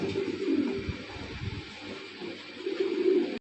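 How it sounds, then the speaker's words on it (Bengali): Pigeons coo softly and repeatedly, their low throaty calls overlapping at close range against faint background noise. "আজকে যা কবুতর দেখামো ভাই সব অস্থির অস্থির কবুতর দেখামো"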